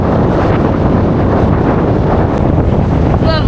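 Sailboat cruising along the Turkish coast near Mersin, with steady broadband wind and water rush filling the scene and loud wind buffeting on the microphone throughout.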